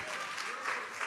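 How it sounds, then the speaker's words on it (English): Brief burst of audience clapping at a church gathering, a dense patter of many hands lasting about a second with faint voices underneath. "Are you clapping for me or for her?"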